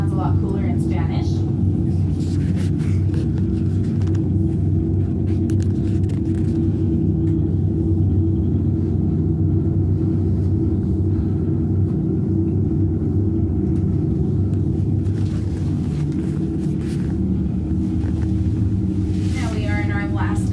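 Sandia Peak aerial tram car climbing the mountain in Albuquerque, New Mexico, gives a steady loud low rumble and hum that runs the whole time, with faint mechanical rattles on top.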